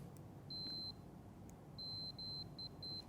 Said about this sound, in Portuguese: Esse bip indica que eu tenho continuidade.